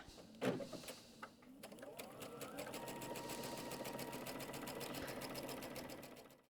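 A sewing machine fitted with a narrow quarter-inch foot sews a stay stitch on a Giant Dahlia medallion quilt. After a few clicks it ramps up into a steady, close whirring run that fades at the end.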